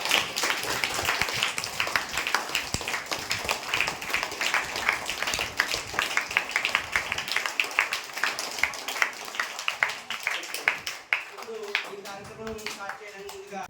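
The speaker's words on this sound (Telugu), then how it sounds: "సార్కి అందరూ కూడా క్లాప్స్ కొట్టండి" Audience applause at a school event in Yanam, dense rapid clapping from many hands that builds and then thins out, with a voice speaking over it.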